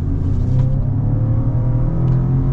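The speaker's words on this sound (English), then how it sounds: "We're going to get our acceleration here with the Navigator." A 2021 Lincoln Navigator Monochromatic SUV accelerating hard in Excite mode, its engine a loud, steady, rising drone heard from inside the cabin with no talk.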